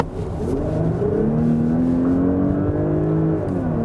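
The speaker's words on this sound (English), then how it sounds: "when I then hit the throttle all the way through, you will see that the combustion engine is being activated" A 2019 Porsche Cayenne E-Hybrid plug-in accelerating at full throttle as its combustion engine cuts in, heard from inside as a steady rising engine drone and whir climbing in pitch over a few seconds.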